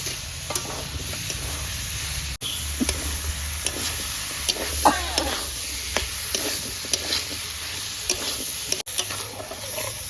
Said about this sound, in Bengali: ভালো করে আলুগুলো দিয়ে কষিয়ে নিচ্ছি।